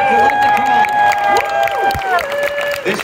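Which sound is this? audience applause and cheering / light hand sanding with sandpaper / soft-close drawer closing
audience applause and cheering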